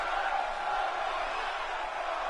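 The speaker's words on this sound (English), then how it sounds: "The crowd begging Gentico to hold on and wrench even further." Crowd in a wrestling video game arena, a steady wash of cheering and roaring that runs throughout at moderate level without clear peaks.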